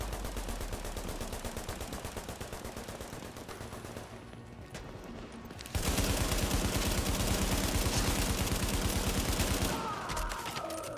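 Rapid sustained bursts of police SMG fire from the video game The Division rattle continuously, dipping briefly before a louder, denser stretch of automatic shots.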